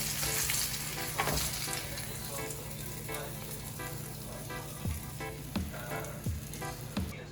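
Steady frying sizzle of manini (convict tang) fish in a pan, a dense continuous crackle with occasional louder pops, no talking.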